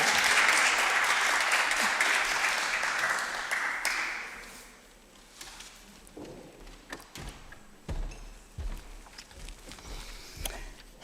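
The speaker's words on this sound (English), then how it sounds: "let's clap for them." Audience applause at a women political leaders summit session, a dense round of clapping that fades after about four seconds into scattered claps, footsteps and knocks in the hall.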